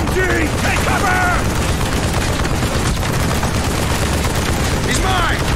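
Machine gun fire in the video game Call of Duty: Black Ops, loud and continuous sustained bursts in a village firefight, with shouted voices breaking through the gunfire.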